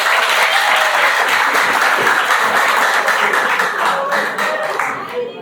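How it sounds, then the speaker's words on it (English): High school students applaud in a dense, sustained burst of clapping that carries on loudly and gradually thins toward the end, with some voices mixed into the crowd. "can't you clap for yourself?"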